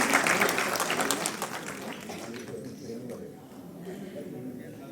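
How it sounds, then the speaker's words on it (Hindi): An audience applauds to welcome a retired DIG as a guest at a gathering on the Indian constitution. The clapping is loud and dense at first, then thins and fades, with voices mixed in. "आप सभी से गुजारिश है उनका एक बार जोरदार तालियों से स्वागत कर ले भाई।"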